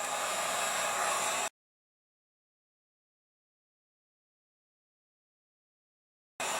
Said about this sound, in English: Lightly with your heat gun, and then run it through a pile of glitter.